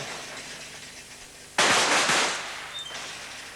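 A single loud, sharp gunshot cracks out at a 1985 champion-of-champions shooting competition in Narrabeen, Australia, its echo fading over a quiet background.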